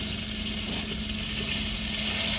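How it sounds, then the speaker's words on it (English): A steak sizzles in a pan during cooking inside a semi truck, a steady, fairly quiet hiss of frying that runs unbroken throughout, with no talking. "it wasn't even sizzling that much and it was creating that crust"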